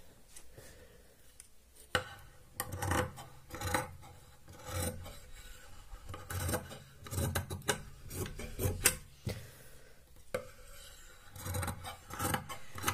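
Scissors cut through fabric pieces for a newborn's reversible baby cap, producing repeated rasping snips and rubbing crunches at close range, with no one talking.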